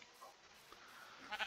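A sheep bleats faintly in a Minecraft-like game world, a soft short call near the end of a quiet stretch.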